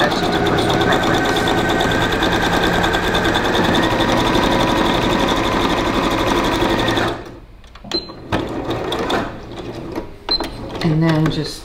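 Sewing machine stitching fabric seams at a craft table, a loud continuous motor whir with rapid needle chatter for about seven seconds, then stopping, followed by quieter handling of fabric and light clicks.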